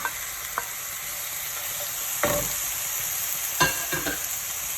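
Pork ribs fry in a pan with toasted chillies for a Thai curry, giving a constant hissing sizzle broken by a few sharp scraping stirs. The sound is close, with no talking.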